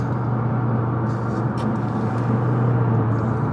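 A car drives along a road, its steady low rumble and tyre roar continuous and fairly loud, heard from inside the vehicle on the way home after getting ice cream.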